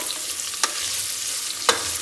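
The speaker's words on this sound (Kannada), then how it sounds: "ಸ್ವಲ್ಪ ಗರಂ ಮಸಾಲ ಐಟಮ್ಸ್ ಹಾಕ್ಕೊಂಡು ಫ್ರೈ ಮಾಡ್ಕೊಳ್ಳೋಣ" Whole garam masala spices frying in oil for donne biryani, a faint steady sizzle broken by two brief stirring clicks against the pan.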